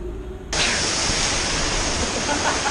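A waterfall roars loud and close in a garden setting near Cotopaxi, its dense, steady rush of falling water cutting in abruptly and continuing unbroken over a faint earlier murmur.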